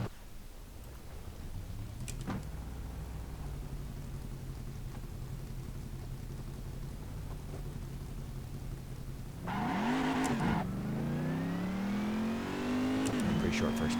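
A car engine in the Assetto Corsa racing game idles with a steady hum, then revs up sharply and climbs through a gear, the rising engine note loud and close.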